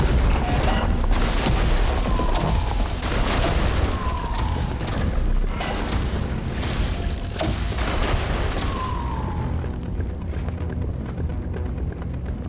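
Explosions rip through a scene in the video game Entropy Centre: a loud, dense wash of booming rumble with repeated bursts layered over it, continuous for the whole stretch.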